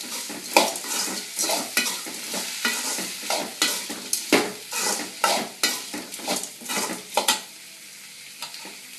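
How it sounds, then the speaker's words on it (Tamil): Onions and tomato sauté in a pan for urad dal chutney, a soft sizzle beneath repeated scraping stirs of a spoon against the pan, close and rhythmic, with no voices. "வெங்காயம் நல்லா பொன்னிறமாக மாறுற அளவுக்கு நல்லா வதக்கி கொண்டே இருக்கணும்."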